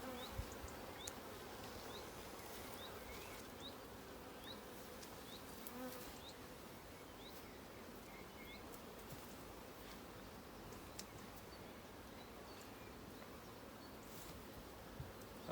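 Honey bees buzzing densely around an open 14x12 nuc hive during an inspection, a continuous, faint, even hum of many insects with occasional individual bees passing close.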